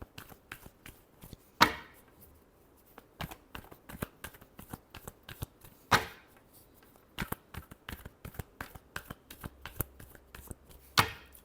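Tarot cards are shuffled in quick, soft riffles and taps, with a few sharper slaps standing out, fairly quiet and close.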